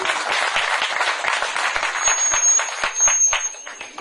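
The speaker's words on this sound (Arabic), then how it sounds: "أعطونا تصفيقة على البواردية والعريس والجماعة كلهم" A wedding crowd applauds the musket firers, the groom and the whole party: dense, steady clapping from many hands fills about four seconds, loud and close, with faint voices mixed in.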